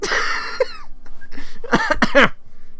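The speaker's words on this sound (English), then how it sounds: "Cough." A single cough with a throaty clearing sound, close and fairly loud, amid other brief vocal noises.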